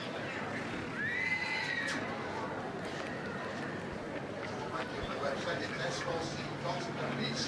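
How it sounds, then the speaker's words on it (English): A foal whinnies in the main show ring at the Royal Welsh Show, a short high neigh rising over steady crowd and arena noise, with a commentator talking throughout. "So this foal is Longhard's foal by Longhard's Renoir."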